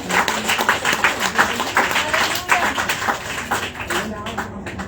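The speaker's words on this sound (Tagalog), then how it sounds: "Isang palakpak sa ating Panginoon" A church congregation claps for the Lord during a Filipino worship sermon, giving dense, lively applause with rhythmic accents. It holds steady for several seconds with a murmur of voices underneath, then thins toward the end.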